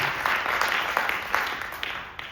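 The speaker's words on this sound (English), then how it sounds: "Would you raise your hand or clap your hands or something?" An audience at a talk about restoring an opera house claps in a steady patter of scattered applause, moderately distant, with no clear speech.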